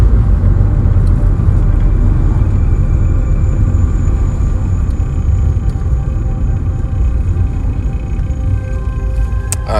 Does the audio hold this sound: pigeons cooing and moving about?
no